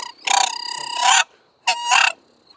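A coon squall hunting call, reported frozen up, is blown in two loud, raspy, wavering squalls, a long one of about a second and a shorter second one after a brief pause, with no talk.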